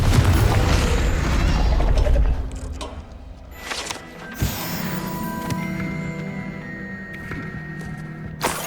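Confringo blasting spell cast in Hogwarts Legacy, a heavy rumbling burst up front that fades out, followed by a sharp clank and mechanical creaks and whirring.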